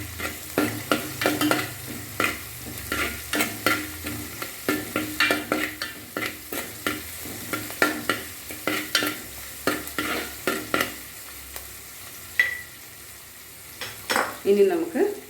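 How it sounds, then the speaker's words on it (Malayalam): Sliced onions sautéing in a pan with a pinch of salt, for a cauliflower thoran, with a steady sizzle under repeated rhythmic stirring and spoon scrapes against the pan, close and fairly loud. "സവാള വേഗം വഴണ്ട് വരാനായിട്ട് നമുക്ക് അല്പം ഉപ്പ് ചേർക്കാം."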